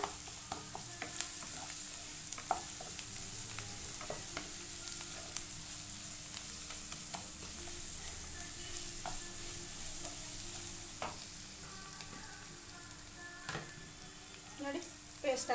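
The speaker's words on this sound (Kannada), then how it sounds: "ಟೊಮೊಟೊ ರುಬ್ಬಿರೋದನ್ನ ಸ್ವಲ್ಪ ಹಸಿ ವಾಸನೆ ಹೋಗೋವರೆಗೂ ಇದೊಂಚೂರು ಫ್ರೈ ಮಾಡ್ಕೊಡೋಣ" Ground tomato paste sizzles steadily in a pan for a spicy paneer vegetable kurma, with a constant high hiss and repeated scraping clicks of a spoon stirring it.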